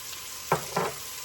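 Chopped garlic sizzling in a pot of sauteed onions, a soft continuous fry with two brief louder stirring bursts close by and no speech.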